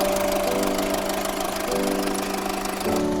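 Diesel engine of a Mitsubishi Lancer GLXD idling in good condition, a steady close rumble with a faint knocking beat, running alone and even throughout.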